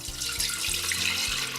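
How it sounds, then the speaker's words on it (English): Water pours steadily into a tea kettle, a continuous splashing gush filling the vessel, close and even in loudness. "then we'll add in 2 cups of water"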